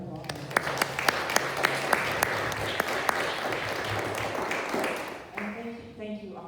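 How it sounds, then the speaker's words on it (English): An audience applauds panelists at the close of a morning community discussion, steady clapping filling the room with a few sharper claps standing out while a speaker's voice carries over it. "Let's give them a big round of applause."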